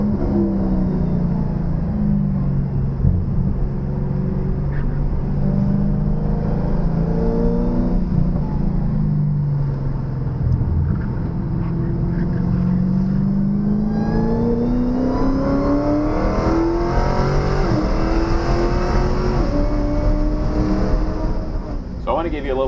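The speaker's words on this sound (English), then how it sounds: "Man, that supercharger sounds great" A Dodge Challenger SRT Hellcat Redeye engine on a race track revs and whines with a rising supercharger pitch, holding a loud, steady drone with swells as the revs climb and fall.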